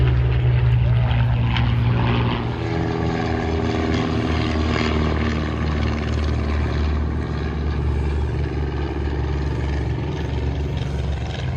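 A P-51 Mustang's piston engine drones loudly and steadily at the Duxford air show, a rich humming propeller growl that is slightly stronger at first and then holds near-constant.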